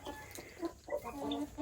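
Chickens cluck softly in a homestead coop holding older hens, guinea fowl and two roosters, a few short calls scattered over a low background hum with no talking.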